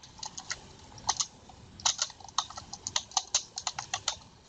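Computer keyboard typing in irregular bursts of close, crisp keystrokes with short pauses, no talk.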